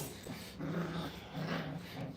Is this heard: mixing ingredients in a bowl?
no